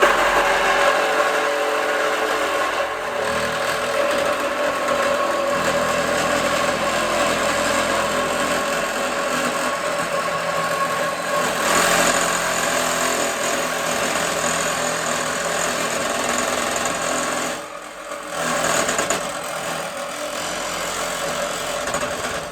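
A reciprocating saw fitted with a CTRS761 blade cuts through thick metal in a steady, loud, continuous buzzing rasp that runs unbroken for over twenty seconds, with brief dips near the end and no speech.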